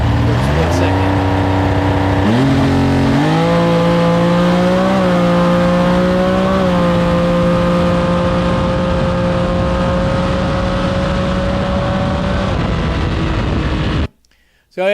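A hot rod with carburetors revs loudly and accelerates away, its engine note climbing in steps and then holding a steady high drone before cutting off abruptly near the end.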